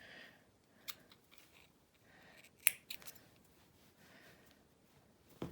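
Scissors snipping shirt seam allowance fabric, a few faint sharp clicks and cuts spaced irregularly, with one louder snip in the middle in an otherwise quiet room.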